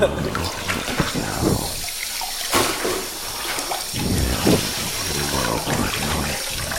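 Tap water runs steadily at a bath while a person's hair is washed and rinsed, splashing close by, with voices talking over it.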